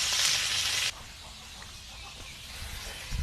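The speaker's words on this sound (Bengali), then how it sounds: "মাছটা এপিট উপিট ভাজা হয়ে গেছে" A foli fish turned onto its other side in hot oil in a pan, with a loud bright sizzle at first that drops to a softer, steady crackle.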